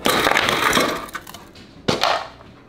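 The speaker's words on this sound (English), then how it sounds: "Look at what happens when I go to use the ice machine in my house." A household ice machine drops ice cubes with a loud clattering rush at the start, followed by a couple of sharper clinks and a final crash of cubes about two seconds in, with no voices.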